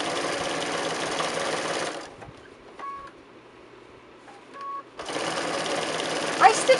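A home sewing machine stitches through about eight layers of quilt fabric to close a hanging sleeve edge, running in a steady loud whir for two seconds, pausing with faint clicks, then resuming at full speed.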